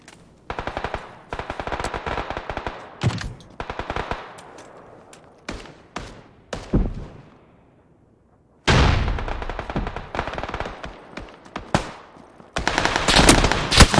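Gunfire in PlayerUnknown's Battlegrounds on Xbox One S: repeated automatic bursts and sharp single shots in clusters, separated by short pauses and one near-silent stretch, before heavy close fire resumes.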